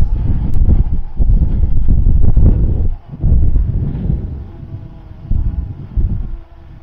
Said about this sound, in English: this is a lot more wind, I think, than what it said on the app